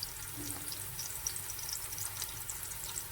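Chopped onions frying in a pan for a home-style dum biryani, a steady soft crackling sizzle with small pops throughout, fairly quiet and without talking.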